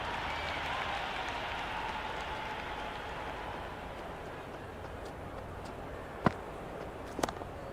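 A cricket crowd at a Karachi Kings versus Perth Scorchers CLT20 quarter-final applauds a six with steady, broad clapping that gradually thins and softens, punctuated near the end by a couple of sharp isolated bangs.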